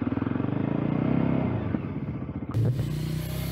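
A Voge Rally 300 single-cylinder trail motorcycle idles with a steady low thumping pulse, then revs and pulls away, followed by a brief scrape and clatter close by.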